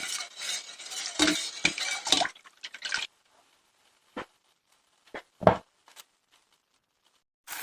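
A spoon stirs a pot of kelle paça soup, with a run of close scraping and clinking strokes followed by a few isolated metallic taps separated by silence.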